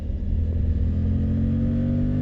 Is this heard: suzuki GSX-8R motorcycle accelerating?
yes